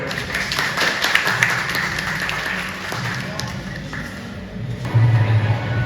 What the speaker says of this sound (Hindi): स्वागत करती हूँ जोरदार तालियों के साथ